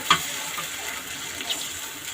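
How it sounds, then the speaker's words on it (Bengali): A little water is poured into a pan of sizzling ground spices for a shrimp bhuna, giving a brief hissing sputter that settles into a steady soft frying sizzle. "সামান্য পরিমাণ পানি দিয়ে নিচ্ছি।"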